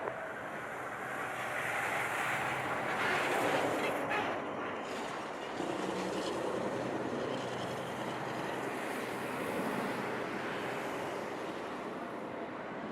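A Southwest airliner takes off in Jamaica, giving a steady, broad roar that swells slightly and then holds level for the whole stretch. It sounds moderately distant, and no one speaks.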